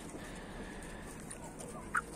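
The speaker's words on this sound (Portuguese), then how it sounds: "Essa galinha preta do meio." A black hen clucks on a small farm, a brief, faint cluck near the end over steady background noise.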